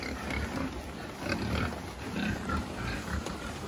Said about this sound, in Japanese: 小豚の 移動。